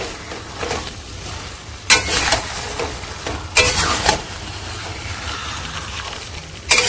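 Mutton being stirred with spices in a sizzling pan, with scraping and frying hiss running throughout and a few louder scrapes at intervals.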